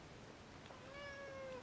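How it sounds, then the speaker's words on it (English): A cat gives a single faint, drawn-out meow in the background of a quiet room, rising and then trailing off. "I think that's the cat saying good night."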